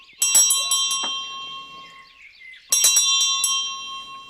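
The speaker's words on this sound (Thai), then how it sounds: "มากะแลงเป็นเครื่องส่งสัญญาณ ให้คนอยู่ไกลๆได้ยิน" A mak kaleng bell, a signalling device meant to carry to people far away, rings in two bright clusters of several quick strikes each, with clear ringing tones lingering between them and no voices.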